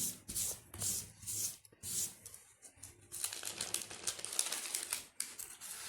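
A cloth powder pouch is rubbed back and forth over a traced embroidery design on fabric, making soft brushing and scratchy swishes in uneven bursts, first in short strokes and then more continuously.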